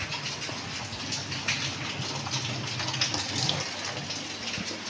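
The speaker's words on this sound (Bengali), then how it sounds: "কে ট্যাপ চালি রেখে চলে গেছে।" A water tap left running during heavy rain, a constant close rush of flowing water with rain texture mixed in and no voices.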